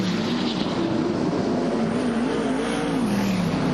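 Sprint cars race on a dirt oval, their engines roaring in a loud, continuous, wavering drone that rises and falls in pitch as they circle the track, with no voices.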